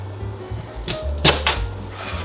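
A kitchen knife cuts through food on a board while Jamaican escovitch fish is prepared: three crisp, close taps in quick succession over a quiet background.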